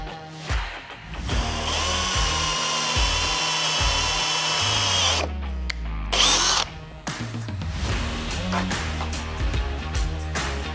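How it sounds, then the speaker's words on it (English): A power drill with a 1/2 inch bit whines steadily at high pitch, drilling a pilot hole in the metal bed rail of a Ford pickup, then stops and restarts in short bursts with grinding, rattling bites; no talking. "use a 1/2 inch drill bit to create a pilot hole directly on that spot"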